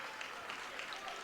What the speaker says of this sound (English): as the clapping ensues from the Garber fan base